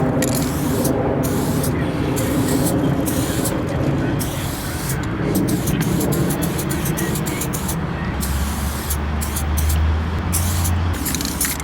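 Spray paint can fitted with a thin cap spraying pink paint: a loud, close, steady hiss broken by several short pauses between bursts.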